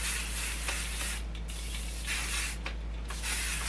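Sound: hairspray being sprayed on hair

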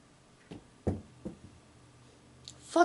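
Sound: battery knocked over

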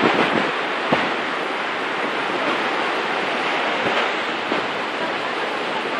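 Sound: ocean waves breaking on a beach

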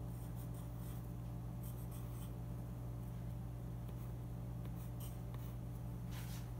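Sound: writing a number on a post-it note

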